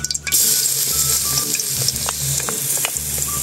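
Loud, steady sizzling of garlic frying in a hot pan, with occasional scraping and stirring clicks over the crackle.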